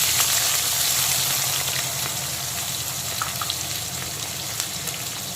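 Chopped onion fries in hot oil with spices and dried chilli, a loud, continuous crackling sizzle close up that eases slightly in level as it goes on.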